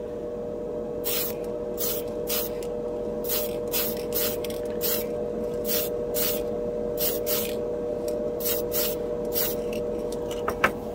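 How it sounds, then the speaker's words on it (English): Repeated short bursts from a Tamiya TS30 spray can, each hiss of paint crisp and close, spaced a second or so apart over a steady background hum. "This is the TS30. Tamiya TS30."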